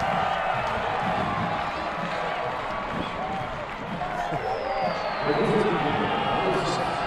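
A minor-league baseball crowd cheers steadily after a leadoff home run by Kolten Wong, a broad, distant roar that swells slightly near the end, with a commentator talking over it.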